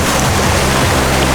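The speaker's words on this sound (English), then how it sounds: "That's that stream behind us." A stream flowing behind hikers on a rainy, snowy outing near a waterfall, a loud steady broadband rush of water filling the short moment without any talk.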